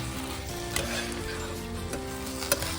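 Cooked rice and pointed gourd (parwal) with fried potatoes being stirred in a pan over steady sizzling, with a few sharper utensil scrapes and clicks and no talking.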